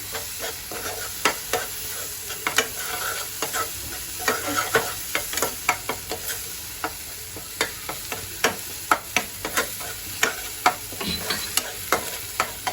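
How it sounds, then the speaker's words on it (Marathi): Masala paste roasting in oil in a pan for a spicy fish curry, with a steady sizzle under regular scraping and stirring clicks of a spoon against the pan, close and fairly loud. "तेल शिटेपर्यंत मी मसाला छान असा भाजून घेत आहे"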